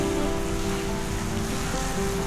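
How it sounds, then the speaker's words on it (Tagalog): Rain falls steadily outdoors near an unfinished road, a dense, even patter hissing continuously and close, with no voices. "Medyo umuulan ngayon."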